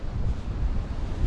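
Low, rumbling wind gusts batter the microphone in a brief, constant roar.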